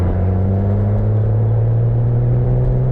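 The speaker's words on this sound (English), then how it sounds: "So I'll have to skip second and go to third here." A Porsche Boxster S (986, 550 Spyder) runs steadily with a loud, close drone, likely as it shifts into third gear while second is skipped for a grinding fault; the hum holds even throughout, with no one talking.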